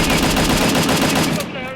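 Rapid automatic gunfire in a multiplayer shooter match, loud and continuous bursts of dense shots for over a second before cutting off.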